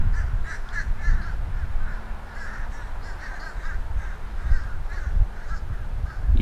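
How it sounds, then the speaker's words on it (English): Crows cawing outdoors on a warming day in Claremont, repeated harsh caws in short bursts from several birds, moderately distant, over steady low wind and road rumble. "Lots of birds."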